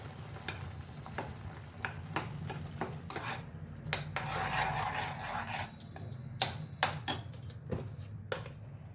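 Ginger garlic paste hitting hot oil in a pan for a mushroom curry, with a soft sizzle under repeated sharp spoon scrapes and clanks against the pan, close and fairly loud.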